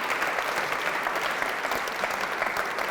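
A live audience applauds steadily, a dense, even wash of many hands clapping that holds at the same level for the whole stretch, with no voices over it.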